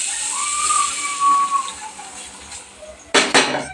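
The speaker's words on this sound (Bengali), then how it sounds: "এই যে দুধটা দিয়ে দিলাম" Milk hits a hot pan of frying rice with a loud hiss and sizzle that fades over a few seconds, followed by a couple of sharp metallic clanks from the pan.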